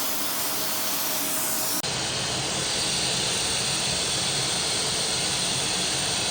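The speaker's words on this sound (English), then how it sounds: "If you put the vacuum hose near the opening of the balloon, the air moves into the hose without much resistance." Steady loud rushing roar of a vacuum hose blowing air beside a balloon-powered toy car, a quieter hiss first, then a sudden jump to a full broadband whoosh that holds to the end.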